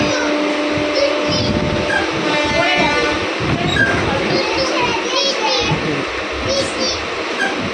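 A late-night passenger train to Puri, departing Santragachi, rolls along with a steady, loud rumble and rattle throughout, while children's voices and other chatter carry on over it.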